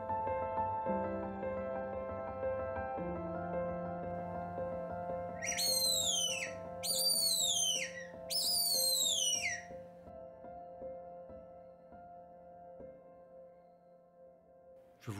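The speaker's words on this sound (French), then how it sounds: "une sorte de petit sifflet dans lequel vous pouvez siffler et qui va imiter le chant des oiseaux" Three quick bursts of high, warbling birdlike chirps from a blown wooden bird call whistle, sounding over a soft background hum.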